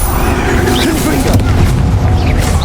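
The Confringo fire spell in Hogwarts Legacy sets off a dense, roaring booming blast that rumbles continuously with low-end thumps, loud and close, with a voice calling out over the din.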